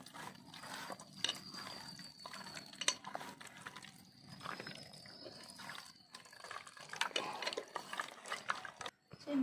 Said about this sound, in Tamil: இப்போ நம்ம நல்லா மிக்ஸ் பண்ணிக்கலாம்